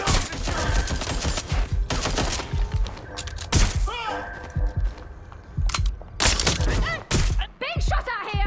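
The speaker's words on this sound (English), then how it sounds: "Being shot out here!" Bursts of gunfire in the video game Watch Dogs Legion, loud repeated volleys and single shots spread across the clip with short gaps between them, alongside other game sounds.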